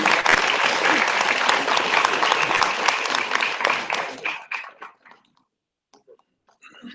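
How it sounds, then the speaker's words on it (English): An audience applauds at a foundation day ceremony as a memento is presented, dense clapping that holds steady for about four seconds, then thins to a few last claps and fades into near silence. "A big round of applause"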